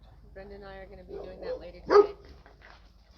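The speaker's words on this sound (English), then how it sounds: "Pardon the barking." A dog barks once, loud and sharp, at a sanctuary during a live morning broadcast as someone drives out, with a person talking before and after the bark.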